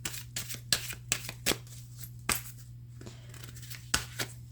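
Tarot cards being shuffled by hand: quick irregular riffles and slaps over a low steady hum, close and quiet, no speech.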